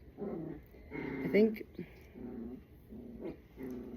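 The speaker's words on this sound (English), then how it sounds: "look at all this growling going on" A dog growls in low, rumbling bursts at close range, several short snarls in an uneven rhythm, while a person speaks briefly over them.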